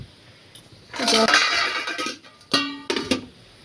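Boiling rice being stirred in a pot on a gas stove, with bursts of metallic scraping and clinking from the spoon against the pot.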